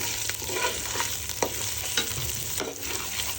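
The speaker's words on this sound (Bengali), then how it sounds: "তেল গরম হয়েছে, এখন দিয়ে দিব পেঁয়াজ কুচি।" Chopped onion frying in hot oil in a pot for beef biryani, a steady close sizzle broken by a few sharp stirring scrapes, with no talking.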